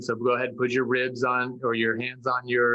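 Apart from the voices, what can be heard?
No everyday noise stands out behind the speech.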